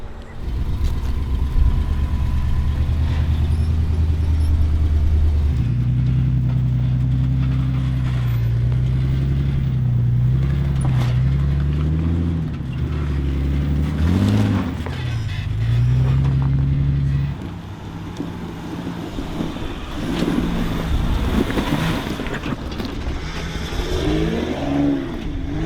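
Off-road crawler engine grinding up a New Mexico trail, a steady mid-pitched drone with rising revs and a few throttle swells, close and loud, a faint voice briefly underneath.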